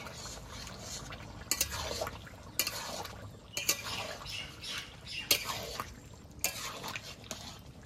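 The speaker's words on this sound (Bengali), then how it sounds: "এবার নেড়ে চেড়ে নেব।" Fish and bottle gourd curry being stirred in a pan, with repeated short scraping and sloshing strokes at an irregular rhythm, close and moderately loud, no talking.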